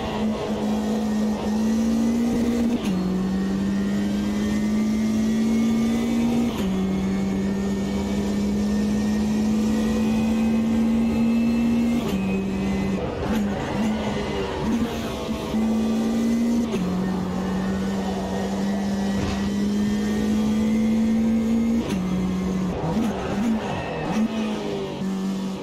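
Alpine A110 Cup race car in Automobilista 2 sim racing, its engine droning loudly as it climbs through repeated upshifts, with pitch rises and drops cycling steadily over about 25 seconds.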